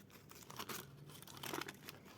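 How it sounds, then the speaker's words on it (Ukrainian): Faint, close crinkling and tearing of a paper packet being opened, in short rustling bursts. "Ось, давайте відкриємо наш пакетик."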